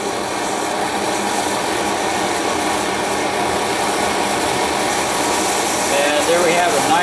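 An MSR XGK EX multi-fuel stove burner roars with a hot flame, producing a loud, steady broadband rushing that holds for the whole stretch and swells slightly near the end.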